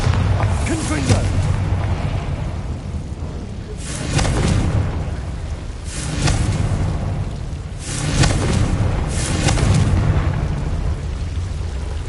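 Bombarda and Confringo spell explosions in the Hogwarts Legacy video game land as five loud, booming blasts spaced about two seconds apart, each trailing into a rumbling decay over a constant low background.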